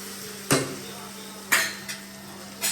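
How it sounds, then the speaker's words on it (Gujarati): A spoon clinks against a metal pot while okra curry (Gujarati bhindi shaak) is stirred. Three or four sharp, fairly close taps are spaced irregularly over a quiet cooking hum. "એને ગેસથી નીચે ઉતારી દઈશું એકવાર સેજ હલાવીને જેથી કરીને અંદર ચોંટી ના જાય"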